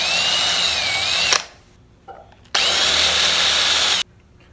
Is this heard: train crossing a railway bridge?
no